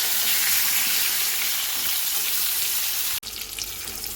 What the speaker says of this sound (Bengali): নুন হলুদ দিয়ে ভালো করে পটলটাকে ভেজে নিচ্ছি।